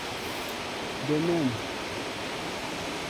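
Steady broadband rush of the long waterfall above the Mau Mau cave in Embu, Kenya, a constant wash of falling water heard throughout, with a brief voice rising over it near the middle.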